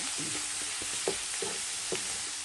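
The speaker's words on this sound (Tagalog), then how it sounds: "Naluto tayo ng palaya with egg." Bitter gourd (ampalaya) frying with egg in a home kitchen pan, giving a steady low sizzle with occasional soft stirring clinks and scrapes, no talking.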